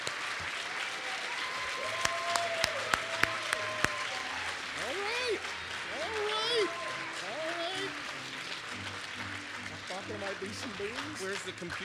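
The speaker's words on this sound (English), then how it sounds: "We're going to give a round of applause, right?" Audience applause at the 2023 ICPC North American Championship closing ceremony for the chief judge: sustained clapping from a crowd, with a few sharp louder claps early on, steady throughout and mixed with background voices and some tonal sounds.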